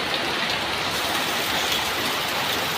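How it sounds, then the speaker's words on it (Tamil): Heavy rain pours down steadily outdoors, a dense, continuous hiss of drops hitting surfaces with no pauses or voices. "இங்கே பாருங்களேன் எப்படி மழை கொட்டுதுன்னு பாருங்க."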